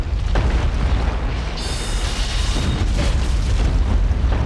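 Rocks shifting in the Dark Souls video game, a deep continuous rumbling boom with low grinding noise that holds steady throughout, loud and close with no talking.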